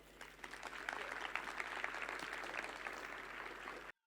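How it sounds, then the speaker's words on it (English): A conference audience applauds a speaker introduced for a talk on server hacking, producing a sustained, even roar of many hands clapping for about four seconds before cutting off abruptly. "Please, a big round of applause for Vranac."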